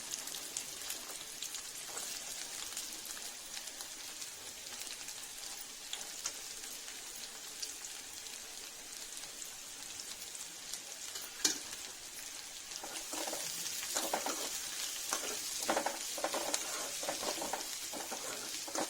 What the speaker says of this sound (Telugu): మంచిగా ఫ్రై అవ్వాలి, గోల్డెన్ బ్రౌన్ వచ్చేదాకా